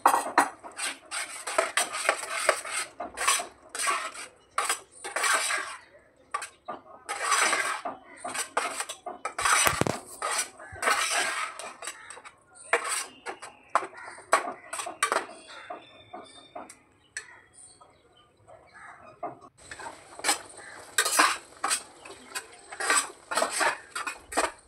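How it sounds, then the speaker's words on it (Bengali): Spinach paste is stirred in a pan for palak paneer, with a metal utensil scraping and clinking against the pan in close, continuous bursts with brief pauses. "এবার আমি পালং শাকটা পেস্টটা দিয়ে দিচ্ছি, দিয়ে ভালো করে নাড়াচাড়া করে নেবো।"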